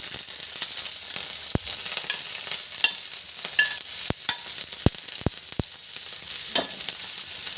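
Green chillies and onions frying in a pan for bread bonda, a bright constant hiss of hot oil with several sharp metallic clacks from stirring against the pan, close and fairly loud, no one speaking.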